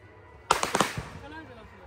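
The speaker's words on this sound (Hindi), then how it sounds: "तो 2-3 साल के बाद राजा आज फटाका फोड़ रहा है" Firecrackers bursting outdoors during Chhath Puja celebrations, a rapid cluster of four or five sharp cracks close by, trailing into fading echo and crackle.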